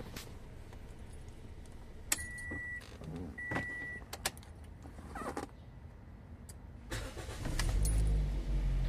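Inside a Toyota Vios with an engine misfire and hard gear shifting, clicks, creaks and a power-window whir sound first, then the engine starts and settles into a low, close idle rumble.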